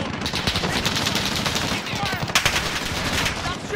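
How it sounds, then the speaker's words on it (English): Dense, rapid automatic gunfire in Call of Duty Modern Warfare, a near-continuous rattle of bursts with scattered heavier shots, loud and close throughout. "Stop shooting at me!"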